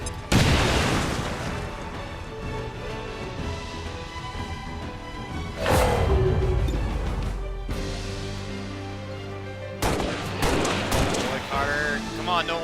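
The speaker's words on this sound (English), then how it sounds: "Throw a grenade. Right there. Grenade out." A grenade detonates during an XCOM 2 firefight: loud booming blasts with a deep low rumble arrive in three separate bursts, mixed with crackling gunfire and battle noise.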